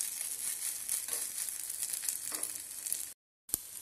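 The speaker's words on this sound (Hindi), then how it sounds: "अब इसे हम हल्के हाथों से पलट लेंगे और दूसरे साइड भी सेक लेंगे।" Semolina balls sizzle and fry in oil in a pan, with soft crackling and a few gentle scraping touches as they are turned; a brief silent gap near the end.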